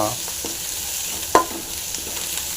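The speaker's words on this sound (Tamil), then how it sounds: "சின்ன வெங்காயம் பெரிய வெங்காயம் ரெண்டுமே போட்டு நல்லா ஃப்ரை பண்ணியிருக்கோம்" Small shallots and large onions fry in a pan, a steady low sizzle with faint stirring scrapes and one brief louder clink near the middle.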